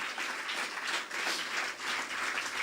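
A church congregation applauds during a sermon, a dense, even wash of many hands clapping that swells and dips slightly at a moderate distance, with no talking over it.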